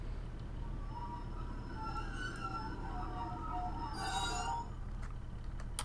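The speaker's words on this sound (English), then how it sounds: "I'll let you watch me shut down the train" A Class 150/1 diesel train in a train simulator game winding down at the end of the line, with a steady low rumble, faint tonal hum and a few light metallic clinks.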